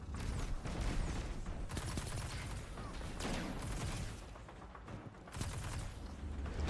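A Hardlight auto rifle fires in Destiny 2 multiplayer, sustained rapid automatic bursts that pause briefly and resume, loud and close, layered with impacts and game effects.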